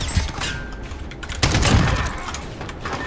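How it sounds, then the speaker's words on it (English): Gunfire bursts in a Call of Duty Search and Destroy match, with a sharp volley near the start and a louder, denser burst of shots midway, followed by lingering noisy rumble. "Where am I getting shot from?"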